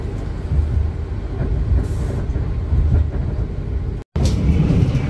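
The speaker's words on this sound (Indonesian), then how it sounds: "Argo Semeru berpapasan dengan kereta api Brantas apa Singosari ya." The Argo Semeru passenger train rolls past another train near Madiun station in Indonesia, a loud, steady rumble and rush of rail noise heard up close from onboard, broken by a sudden momentary dropout before the roar resumes.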